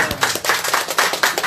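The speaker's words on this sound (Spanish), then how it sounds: "Un aplauso para" A short burst of close hand clapping for the first female mayor of La Banda de Shilcayo at a tribute event, a quick, fairly even rhythm of claps from a small group.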